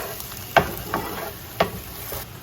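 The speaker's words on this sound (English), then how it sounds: "this is when I'm gonna start cooking in the garlic and the onions" Garlic and onions sizzle in a pan over medium heat, a soft steady frying hiss broken by a few sharp scrapes of stirring.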